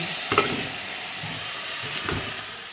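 A curry of fried spices with tomato in a pan, sizzling steadily with a soft steamy hiss, broken by a few brief scrapes and stirring knocks, close and moderately quiet.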